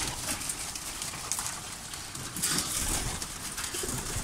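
Pigeons coo in a netted loft where many of the birds are sick, a soft steady cooing held under a constant wash of broadband noise.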